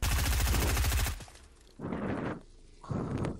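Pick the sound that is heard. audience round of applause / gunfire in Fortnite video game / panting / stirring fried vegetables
gunfire in Fortnite video game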